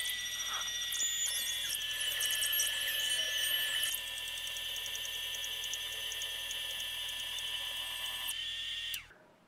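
Stepper motors of a CNC router driving the axes during a test run with the spindle off, steady high-pitched whining tones that change pitch as moves switch, running for about nine seconds before stopping abruptly.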